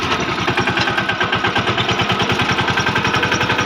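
A tractor engine chugs in a steady, loud, rhythmic pulse as it drives along in a rural Gujarat farming village, running alone without talk.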